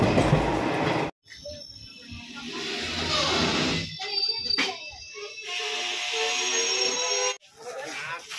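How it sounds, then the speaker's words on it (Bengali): Uttar Banga Express rolling into Aluabari junction, a steady rumble of rail wheels and carriages running near and loud, broken by brief gaps, with faint voices in the background. "ট্রেন এসে পৌঁছালো আলুয়াবাড়ি জংশন"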